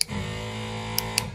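A toggle switch on a DIY camper's custom switch panel gives a sharp click near the start, with two more brief clicks later over a steady electrical hum.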